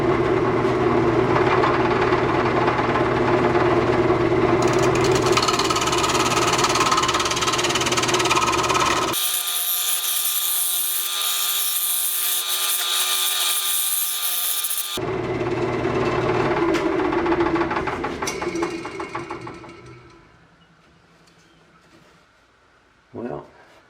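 A wood lathe spinning at about 700 RPM while a Sorby carbide tool shapes the piece, a steady whirring drone with scraping cutting noise that breaks off abruptly midway, resumes, then winds down to quiet.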